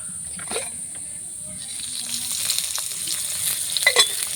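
Onion, green chili and cumin fry in mustard oil with a steady, moderate sizzle. Stirring brings occasional scrapes and spatters, and the hiss builds slightly toward the end. A faint voice sounds in the background.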